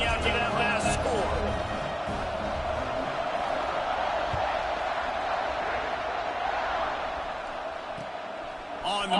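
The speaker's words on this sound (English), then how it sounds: "this crowd is buzzing after that last score" Stadium crowd noise in the NCAA 26 college football video game, LSU versus Ohio State, makes a steady roaring buzz across the whole clip, mixed with a commentator's speech.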